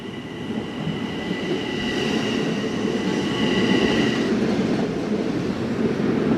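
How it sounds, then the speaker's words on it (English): A train passes in Kew Gardens, Queens, New York City, with a continuous loud rumble and rattle of wheels on track that grows slightly stronger as it goes by, with no talking. "And the train is passing here now."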